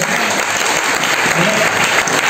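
A church congregation applauds at a testimony service, a dense steady wash of clapping filling the whole short stretch with no clear voices on top.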